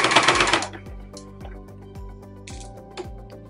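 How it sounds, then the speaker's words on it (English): A sewing machine stitches a fabric mason jar bag, opening with a short loud rattling burst and then settling into a steady run of soft rhythmic thumps, close and alone. "I'm sort of repositioning the bag as I sew"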